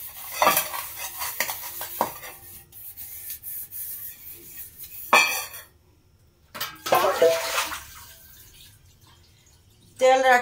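Empty oil containers are washed with water: splashing and running water mix with hollow clattering and knocking of the containers in uneven bursts, broken by short quiet gaps.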